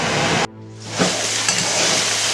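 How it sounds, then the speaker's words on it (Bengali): Sliced spiny gourd (kakrol) frying in a pan with salt and turmeric: a loud, steady sizzle that rises sharply after a brief lull, with small crackles and a stirring scrape, no voices. "এবার ভালো করে এরকম ভাজা করে নিতে হবে, লাল লাল করে"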